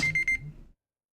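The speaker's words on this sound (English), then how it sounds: "Thought I turned that alarm off." A phone alarm sounds in brief, bright beeping pulses for under a second, then cuts off into silence.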